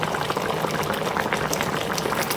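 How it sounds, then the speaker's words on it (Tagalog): Vinegar poured into a pot of simmering ginataang tulingan, a coconut milk tuna stew, over a dense, steady bubbling and hissing that stays loud and even throughout. "So lagyan natin ng suka."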